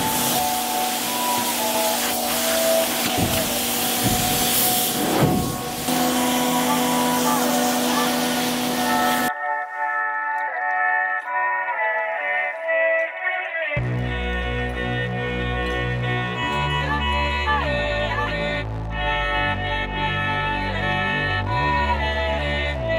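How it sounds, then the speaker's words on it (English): A power washer sprays the roof of a school bus conversion: a loud, continuous broadband hiss for roughly the first nine seconds, then cut off, with music taking over the rest. "So let's get that power washer and get cleaning."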